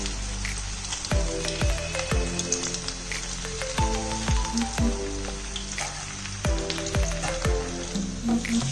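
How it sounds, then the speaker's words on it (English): Cumin seeds and ginger cook in hot oil in a pan, giving a steady sizzle broken by frequent sharp pops and crackles close by. "After adding jeera, put some ginger and let that boil as well."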